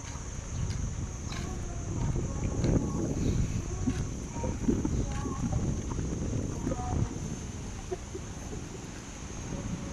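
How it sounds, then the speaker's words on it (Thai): Strong wind buffets the microphone outdoors at a seaside resort in Khanom, a low rumbling roar with irregular gusts that runs throughout. "ลมแรง"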